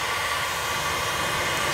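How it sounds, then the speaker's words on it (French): A hair dryer plugged into mains power through an extension cord at a motorhome stopover in France, blowing a steady, loud, broadband airy roar that stays even and continuous throughout, with no talk. "Alors Pauline, on a une rallonge pour brancher le... sèche-cheveux, c'est plus pratique"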